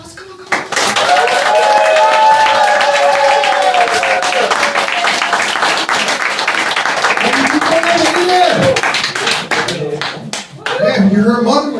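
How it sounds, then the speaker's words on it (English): Loud audience applause and clapping fill a comedy show in Haarlem, with cheering and raised voices mixed in, then the crowd noise breaks up and voices come through near the end. "Give it up. Big applause."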